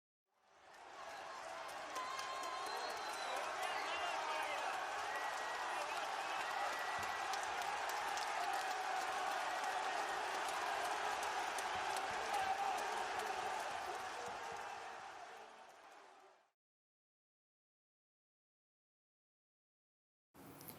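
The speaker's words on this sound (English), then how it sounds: "it was sound of a crowd cheering at a baseball or football match" A large crowd cheering and applauding at a baseball or football match, a dense continuous roar that swells in, holds steady for about fifteen seconds, then fades out to silence.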